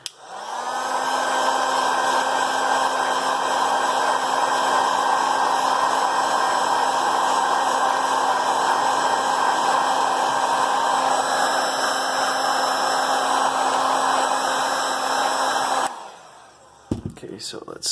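A heat gun blows steadily for about sixteen seconds while warming the back glass of a Samsung Galaxy S9, a loud, even whooshing drone with a fixed whine, then cuts off, leaving a brief quiet clatter.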